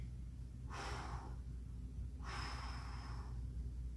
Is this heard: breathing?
yes